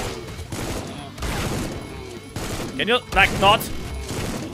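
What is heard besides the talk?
enemies firing shells in the video game Supplice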